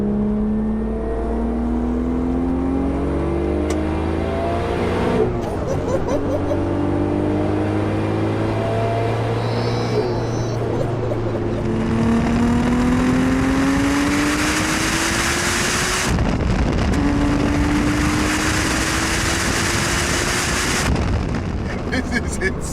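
A 1093 bhp stroker-built B5 Audi RS4 engine revs loud and close, its pitch climbing in repeated rising sweeps with wind buffeting throughout, while people talk over it.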